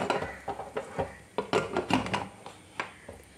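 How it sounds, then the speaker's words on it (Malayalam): An aluminium pressure cooker lid is set and closed over kalathappam batter, giving a quiet run of light metallic clinks and clanks at irregular intervals. "കുക്കർ അടച്ച് വെക്കാം."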